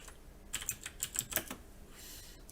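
Fingers typing on a computer keyboard in a short burst of quiet, rapid key clicks, then a pause, heard close but soft with no speech.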